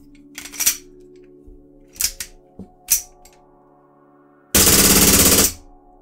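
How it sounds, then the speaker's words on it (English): An ICS ICP replica airsoft pistol fires a few sharp single cracks, then one loud, continuous full-auto burst of about a second, close and dry over a steady low hum. "The ICP has full auto."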